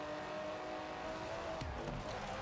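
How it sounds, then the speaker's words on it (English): An Aston Martin engine in Forza Horizon 4 hums and revs in a steady, smooth drone, with a brief rising whine near the end; fairly quiet, no talking. "they updated the car noises for this Aston Martin"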